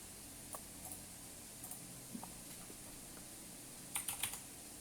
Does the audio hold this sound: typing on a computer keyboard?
yes